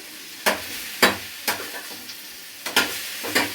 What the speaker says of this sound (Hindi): थोड़े से ऑयल में इसको फ्राई करेंगे।